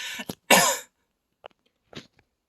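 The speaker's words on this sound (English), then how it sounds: "please pardon my cough" A few dry coughs, one loud and close, followed by fainter small coughs and throat sounds in near silence.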